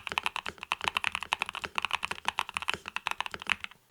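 Rapid, steady typing on a custom Neo60 Core mechanical keyboard, crisp clacky keystrokes in a dense rhythm, close up with no voices.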